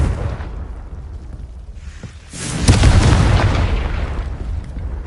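A Confringo blasting-spell explosion from Hogwarts Legacy: after a brief quiet, a loud, close, rumbling burst erupts and sustains, with a thick low-end roar and no talking.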